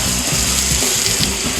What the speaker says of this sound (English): You see the water is gonna be running all the time like this